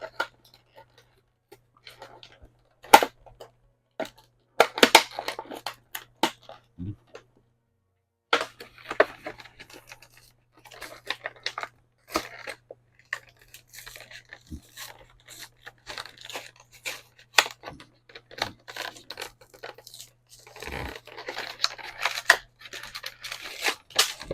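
A Mattel WWE Andre the Giant figure being unboxed: scattered close crinkles, tears and crunches of cardboard and plastic packaging in irregular bursts, with brief pauses and a faint low hum beneath.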